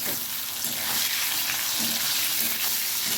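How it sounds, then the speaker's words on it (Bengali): Pieces of teasel gourd fry in oil in a pan, giving a brief, dense and even crackling sizzle heard up close with no voices. "এখন কাঁকরোল ভাজা হচ্ছে"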